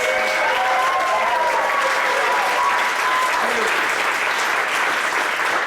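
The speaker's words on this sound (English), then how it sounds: "a big round of applause." Audience applause at a stage performance, a dense, steady wash of many hands clapping throughout, with a few faint voices and a whistle-like tone woven in.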